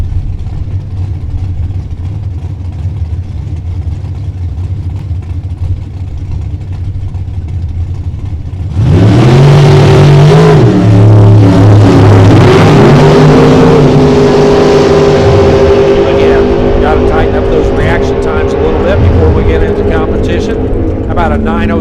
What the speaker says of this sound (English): Here is Tim Parker, the Parker Racing, brand new Casey Lane Race Cars build entry over here on the left-hand side.